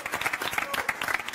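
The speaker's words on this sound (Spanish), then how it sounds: "Pido un fuerte aplauso para Geraldine Neumann" Studio audience clapping on a television entertainment show, a short burst of dense, lively applause close to the microphone.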